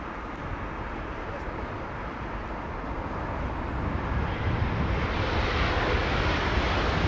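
An Airbus A330-900 large airliner roars steadily with its jet engines, a broad continuous rumble that swells louder in the second half as it passes close, with no other sounds.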